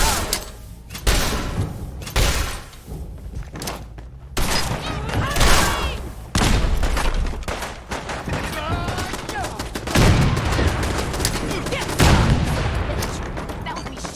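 Gunshots and explosive impacts boom through a Fallout 4 game battle, in repeated loud bursts and volleys across the whole stretch, mixed with game sound and voices.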